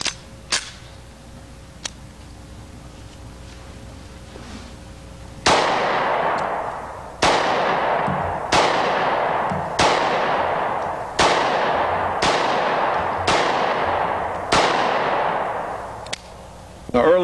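Handgun shots at an outdoor range, among them a Smith & Wesson Sigma, crack out in a steady series of about nine loud reports roughly a second apart, each followed by a decaying ring.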